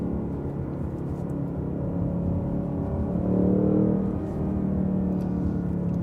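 A Ford Mustang Mach 1 engine drones steadily while driving, swelling briefly in a short rev blip on a downshift before settling back to a low, even hum.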